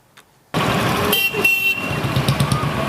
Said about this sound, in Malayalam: കാതടപ്പിക്കുന്ന ശബ്ദത്തിൽ ഹോൺ മുഴക്കി വാഹനങ്ങൾ